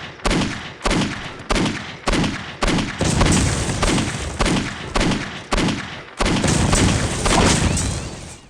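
Grenade explosions in the Postal 2 video game, heard as a rapid series of heavy booms and bursts, about a dozen close together and loud, with short gaps between them.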